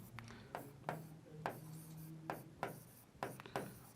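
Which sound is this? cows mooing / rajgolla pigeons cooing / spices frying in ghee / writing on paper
writing on paper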